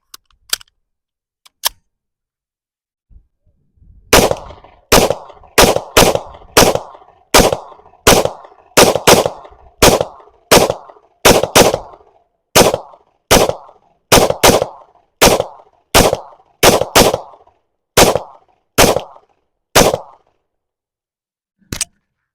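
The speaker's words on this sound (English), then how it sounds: "Let's blast through this ammo and let's see what we get." Pistol shots from a PSA Rock fired with Speer Gold Dot ammunition at a target about 10 yards away: two isolated shots, then a long run of about twenty sharp, loud reports at a quick, steady pace.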